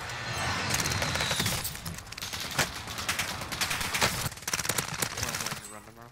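Rapid automatic CX9 SMG fire in Warzone on Rebirth Island, dense crackling bursts with scattered distant shots, loud and continuous under excited voices of players talking.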